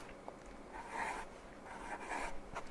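A teacher writes on a classroom blackboard in chalk, making two bursts of scratchy strokes at moderate, close loudness with no talking.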